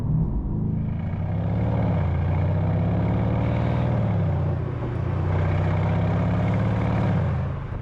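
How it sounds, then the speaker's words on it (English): A Mercedes-AMG C63 facelift with a V8 and particulate filter rumbles in a deep, steady drone at about 30 mph, with slight swells in pitch, loud and close, with no talking. "I'm just doing 30 miles per hour, and you get this consistent, nice rumble of the V8"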